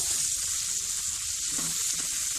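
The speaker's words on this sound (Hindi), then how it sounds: "तकरीबन 2 मिनट तक इसे लगातार इसी तरह से चम्मच चलाते हुए हम इसको कुक करेंगे।" Chopped onions soften over a medium flame, a steady bright sizzle filling the pan while a spoon stirs them continuously with soft scraping knocks underneath, close and alone with no voices.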